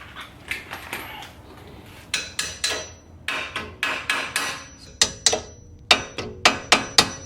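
Repeated sharp metallic hammer strikes on Ford Maverick suspension parts during a spring swap, steady and close, speeding up toward the end with ringing impacts.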